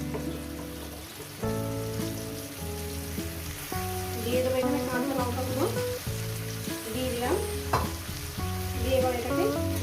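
Ridge gourd frying in a pan with turmeric, a steady close sizzle with stirring scrapes and light crackles that grows busier after the first second, with no talk over it.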